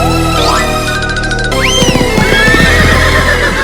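Cartoon horse neighs loudly with a rising whinny, followed by quick clip-clopping hooves over a steady background music bed.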